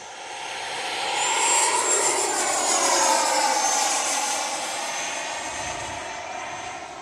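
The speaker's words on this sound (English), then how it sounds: "Nice F-22." A Freewing F-22 Raptor RC jet passes overhead with a rising, sweeping whine that swells loud around the middle and fades away, no voices.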